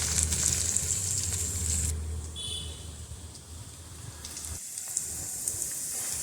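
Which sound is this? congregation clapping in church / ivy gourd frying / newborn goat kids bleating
ivy gourd frying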